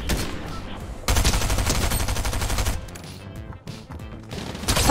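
Rapid gunfire from a weapon in a crowded Fortnite Zero Build match, loud, dense bursts with a sharp start partway through and continuing shots alongside game effects.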